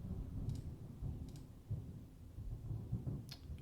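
Low, faint rumbling of thunder from a thunderstorm rolls on for several seconds, with soft crackles and a few brief clicks over the murmur.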